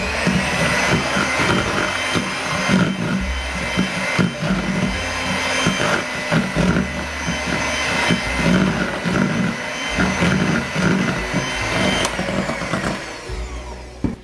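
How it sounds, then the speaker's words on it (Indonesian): Electric hand mixer whirring through nastar pastry dough as egg yolks are blended in, a loud continuous motor drone with slight pulsing changes in load and no voices. "masukkan kuning telur, lalu mixer sebentar aja sampai nyampur."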